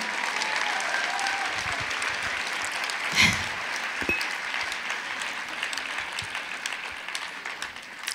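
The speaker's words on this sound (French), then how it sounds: "je voudrais que vous l'applaudissiez" An audience at a Paris gathering applauds Anne-Marie Escure with a steady roll of many hands, moderately soft and even, thinning slightly toward the end.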